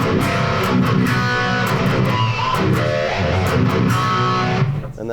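Distorted electric guitar played through a Fortin Grind pedal into a Soldano SLO amp, chugging steadily and loudly with dense, gritty chords for about five seconds.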